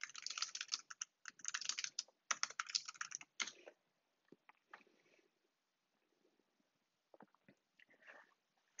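Computer keyboard typing, quick clustered keystroke clicks in bursts at first, then sparser, fainter taps with pauses in between.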